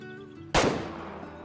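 A lever action rifle fired over iron sights while hunting in the video game Way of the Hunter, one sharp, loud shot over a low ambient hum, with a decaying echo.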